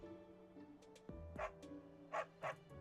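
A dog in the video game Fire Emblem: Three Houses gives a few short, soft barks and yips in quick succession over a quiet, low game backdrop.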